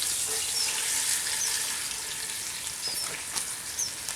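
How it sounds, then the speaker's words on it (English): A roast searing in a Dutch oven over an outdoor fire, a soft continuous sizzle and crackle at moderate distance with faint outdoor background. "this recipe calls for your roast to be seared."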